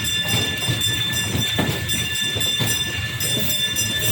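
An amusement park ride train at a dream park in San Isidro, Nueva Ecija, rumbles steadily along its track, a continuous mid-loud rolling noise with faint clatter and no talk over it.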